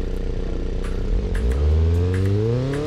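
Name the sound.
Fast and Furious car engine revving in a video game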